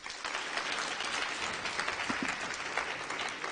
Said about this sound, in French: Déjà, vous pouvez les applaudir.